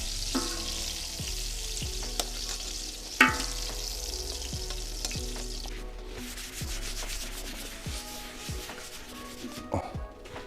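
Zucchini fries in oil in a pan with a soft, continuous sizzle, broken by the scrape and clink of a utensil against the pan, heard close and fairly quiet.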